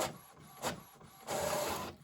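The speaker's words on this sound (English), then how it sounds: "you saw me push print a test page from my laptop" An Epson EcoTank ET-8550 printer runs a test page, giving mechanical whirring and feed noise in uneven bursts, with a brief surge early on and a louder sustained stretch toward the end, close up and with no talking.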